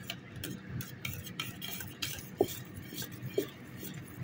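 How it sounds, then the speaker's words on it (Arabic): Wire whisk stirring flour batter in a bowl, a soft continuous swishing with faint rhythmic scraping and two small metallic taps, quiet and close. "هنبتدي نقلب المضرب السلك كده على دائر"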